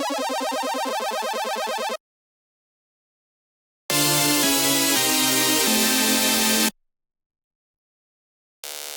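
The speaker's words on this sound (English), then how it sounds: "I also added an arp to make it sound more cuter." Cute synth arpeggio in a future core electronic track, bright rapid patterned notes over a chord stack, playing in two bursts separated by sudden cuts to silence, with another brief burst at the end.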